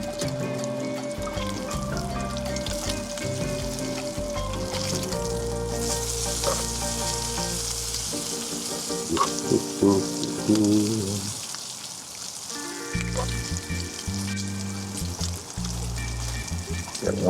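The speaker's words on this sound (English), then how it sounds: "Got one accelerated cooking piece of bacon there." Bacon sizzles and crackles in a hot pan during a breakfast cook in San Diego's Mission Bay, a steady frying hiss running throughout under changing background sounds.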